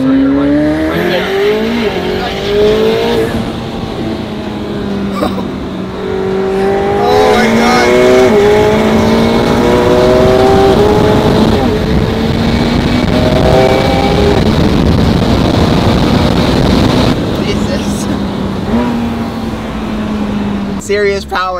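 Hard acceleration in a 2024 McLaren 750S: loud, continuous engine roar with rising harmonics through several gear changes and turbo whoosh, filling the cabin while a person talks over it.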